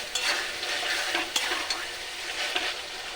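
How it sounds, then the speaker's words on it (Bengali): Onion fries with ginger garlic paste for Kashmiri chicken kanti, giving a soft continuous sizzle with scraping stirs and a few sharp spoon taps against the pan, close-up and unaccompanied by speech. "আদা রসুন দিয়ে অল্প করে ভেজে নিয়েছি হালকা করে যেন কাঁচা গন্ধটা চলে যায়"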